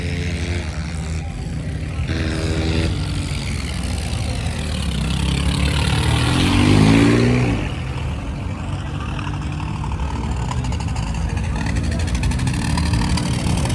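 A heavy tractor engine idles and rumbles close by at a fair, swelling into a brief rev midway before settling back, with voices talking over it.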